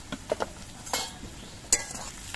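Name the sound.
onions frying in a pan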